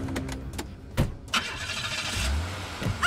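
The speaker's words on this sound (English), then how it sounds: "chase after me in the car, Kenny" Cartoon car engine starting and driving off: a few sharp clicks and clunks, then the engine catches and rumbles into a steady, building roar that continues to the end.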